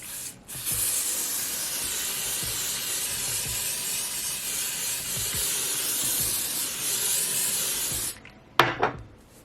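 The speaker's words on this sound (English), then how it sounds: "And I go back a little bit with the spray, so just in case it does roll, it has some like grip still." EBIN hair spray sprayed steadily during a wig install, a close continuous hiss lasting several seconds, then a short rustle after it stops.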